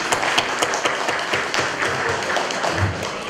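Hands clapping in a lively, dense stream at a family gathering, steady and close, as applause with no pauses and a faint voice underneath.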